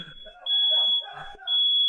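A smoke alarm emits loud, sustained high-pitched beeps, two long tones separated by a brief gap, with faint background noise between them.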